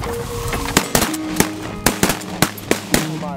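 Shotgun blasts ring out in a cold desert setting during a crane hunt, about eight sharp shots in a quick irregular volley from several hunters, loud and close over faint background murmur.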